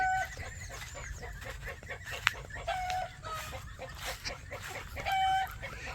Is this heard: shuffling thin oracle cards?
no